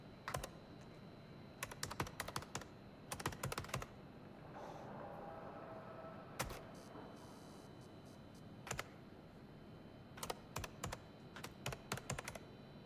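Keyboard typing clicks in a video game, coming in short close bursts of rapid keystrokes separated by quiet gaps, with a faint soft hum between bursts.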